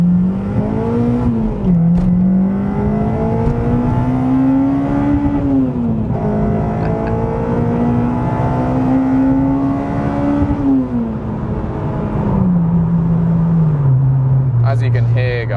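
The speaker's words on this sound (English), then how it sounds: "Let's get some exhaust clips of this thing and let's see what this thing sounds like on the motorway" A mapped Honda Civic Type R EP3 with a Solid Fab 3-inch exhaust pulls hard on a motorway, its steady engine drone climbing through the gears with pitch dips at each shift, loud and continuous from inside the car.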